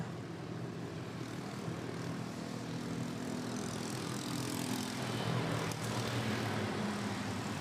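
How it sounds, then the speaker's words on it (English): A Cebu Pacific Airbus A320neo arrives at Manila Airport from Butuan, its jet roar a faint, steady drone from a distance that swells slightly toward the end, with no talking. "Cebu Pacific A320neo arriving from Butuan."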